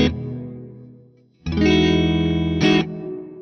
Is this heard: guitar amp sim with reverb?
yes